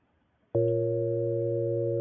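A steady synthesizer pad starts abruptly after near silence. It is a smooth, sustained sine-wave tone with reverb and a few layered pitches that holds evenly to the end.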